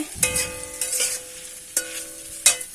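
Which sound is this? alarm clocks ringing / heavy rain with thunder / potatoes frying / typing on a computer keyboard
potatoes frying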